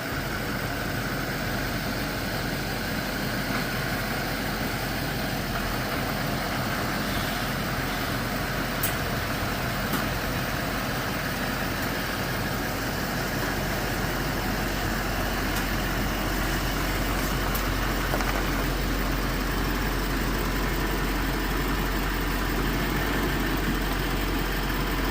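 Pickup truck, dust-covered, rolling out of a garage with its engine idling in a steady low rumble that holds evenly throughout at moderate distance, no voices over it.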